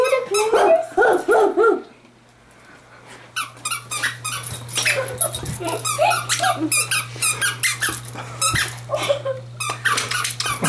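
A dog chews a squeaky toy, squeezing out bursts of high squeaks in quick runs with short pauses, mixed with yips and small barks, while a person talks nearby over a steady low hum.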